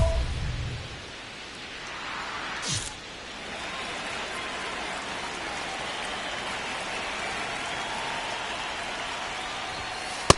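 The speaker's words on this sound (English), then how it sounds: "This rain is not letting up." Steady rain falls on a baseball stadium in the MLB The Show 26 video game, a soft even hiss of raindrops that continues throughout, with a brief swish partway through and no talk.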